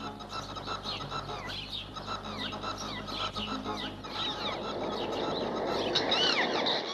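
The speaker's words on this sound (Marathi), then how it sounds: "ती चिमणी इतक्या जोरजोराने ओरडते का तिथे?" A sparrow chirps and cries insistently among other birds, sharp repeated calls over a dense background of farmyard fowl clucking and honking, fairly close and persistent.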